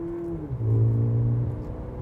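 A Volkswagen Nivus GTS engine drones close by under acceleration, its steady tone dropping in pitch during a quick gear change and then holding a lower, even hum.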